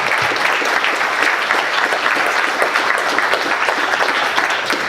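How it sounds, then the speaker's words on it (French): Audience in a meeting hall applauding the organisers, a loud, dense, sustained round of clapping from many people. "je propose qu'on les applaudisse parce qu'ils travaillent d'arrache-pied depuis plusieurs heures."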